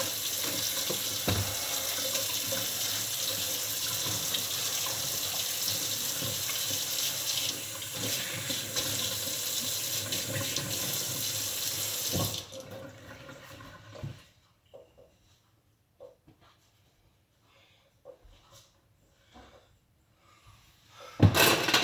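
Tap water pours steadily into a sink for about twelve seconds while hands are washed in a kitchen, then stops, followed by sparse quiet handling sounds and a final louder knock, close by with no voices.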